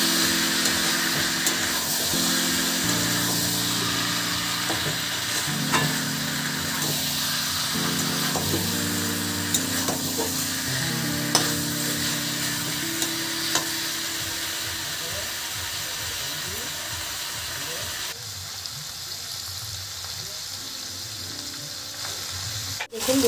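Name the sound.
mutton being stirred and fried in a pan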